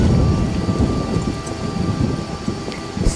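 Steady heavy rain pours down in a video game, with thunder rumbling low and continuous beneath the hiss of the downpour throughout.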